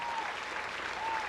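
A short, faint burst of applause comes through a digital community meeting, steady patter over about a second and a half with no voices over it.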